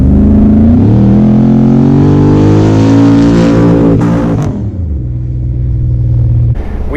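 A Toyota Land Cruiser FJ44 fitted with an LS7 V8 accelerates hard, its loud, close engine climbing steadily in pitch through the revs, then dropping back to a deep idle rumble before a brief surge.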